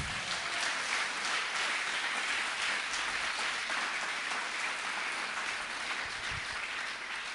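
Church congregation applauding during a French-language sermon, a steady wash of many hands clapping together at even loudness throughout, with no voices over it.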